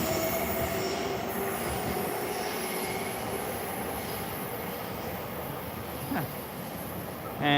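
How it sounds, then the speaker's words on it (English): A train pulling out of a long curved station in Japan, with a loud continuous rumble, high squealing wheels and a steady electric whine, heard close. A brief voice speaks over it. "There's our train taking off."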